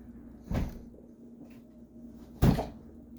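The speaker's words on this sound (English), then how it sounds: "Why do they insist on slamming the goddamn door all the time?" Two heavy door slams, one about half a second in and a louder one near the two-and-a-half-second mark, each a sharp thud against a low steady hum.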